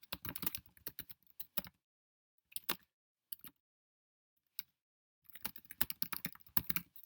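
Bursts of computer keyboard typing in a quiet room, close and clear, with rapid key clicks separated by pauses and a final longer run of keystrokes, entering text for an Inform 7 interactive fiction game.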